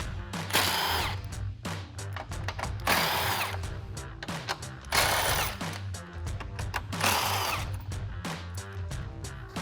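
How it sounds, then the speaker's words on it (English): Impact gun spinning a deep socket on 10mm grille bolts of a 2014-2015 Chevrolet Silverado 1500, four loud buzzing bursts in steady rhythm with short gaps and clicking handling between them, close and alone. "I'm switching over to an impact gun and a deep socket, so let's get those off"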